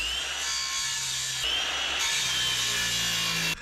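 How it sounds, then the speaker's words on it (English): A circular saw cuts through wood during a rotten roof repair, its loud, steady whining buzz shifting in pitch as the blade bites, then stopping abruptly at the end. "using the circular saw"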